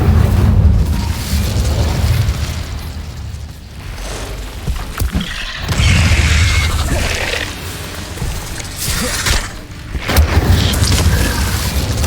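An Incendio fire spell cast in a Hogwarts wizarding video game, erupting in loud booming, whooshing fiery bursts that swell and fade several times across the span, with no talking.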